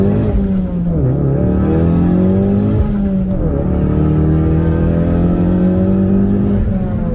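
A 2016 Ford Focus RS pulls hard at wide open throttle, its engine roaring loud and close with a steady rising drone and brief dips at gear changes.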